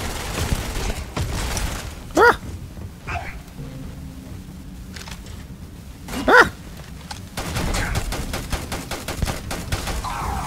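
Gunfire in the space game Starfield, with a few loud shots and bursts spread across the clip over a busy, noisy game background.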